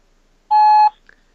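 A single loud voicemail beep on a phone call, a steady tone lasting under half a second, followed by silence.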